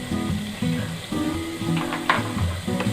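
Cumin seeds sizzle in hot oil in a pan with a steady crackling hiss, partly covered by background music.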